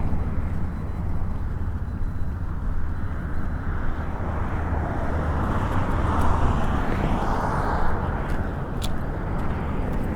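Airplane noise drifting over an orange grove in Gene Autry Park in Mesa, Arizona, a continuous low broadband rumble that fills the whole stretch steadily, recorded binaurally outdoors with faint wind and distant traffic mixed in.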